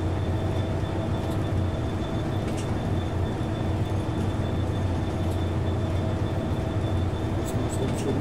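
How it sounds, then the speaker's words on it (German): A British Class 66 diesel locomotive with a two-stroke engine, hauling a heavy train toward Folkestone West in a train simulator game, gives a steady low droning rumble throughout at moderate level, with no voices. "Dieser klassische Zweitakter-Sound."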